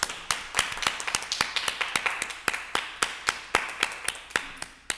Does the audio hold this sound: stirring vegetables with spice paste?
no